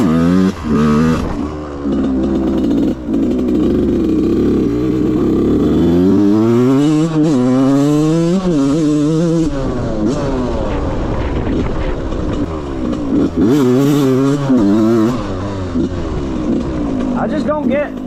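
A two-stroke dirt bike engine revs hard on a trail, its pitch sweeping up and down in repeated bursts, loud and close throughout with wind and riding noise.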